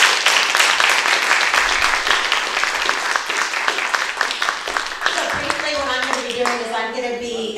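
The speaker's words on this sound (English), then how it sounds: "Let's give them a round of applause." An audience at a public planning workshop in Novato, California gives a round of applause, dense and steady, fading out near the end as a voice begins talking.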